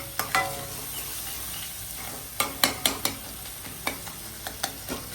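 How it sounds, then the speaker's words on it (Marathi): Turmeric masala sizzles in a pan with a constant soft hiss, broken by a series of sharp scraping knocks as it is stirred, louder and more frequent in the second half, with no talking. "मसाल्यानं आता शिजवून घ्यायचं आपल्याला तीन ते चार मिनटं"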